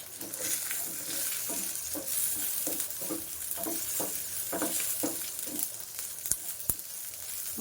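Dry red chillies and curry leaves sizzle in a hot tempering for dal with spinach, with a steady crackle and regular scraping stirs, plus a couple of sharp clinks near the end.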